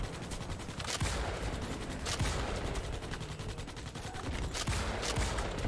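Sustained automatic gunfire in a military video game, dense continuous rattling bursts with heavier shots punching through at intervals, loud and relentless throughout.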